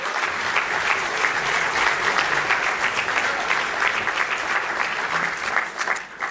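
A crowd claps steadily for Speaker Newt Gingrich at a speaking event, the applause full and continuous and tapering slightly at the very end.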